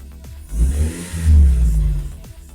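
A Chevrolet Kadett SLE engine revs twice as the throttle is pressed, each blip rising into a deep, close growl and falling back, with the second rev longer and stronger.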